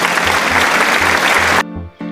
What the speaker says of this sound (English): Let us give applause for them.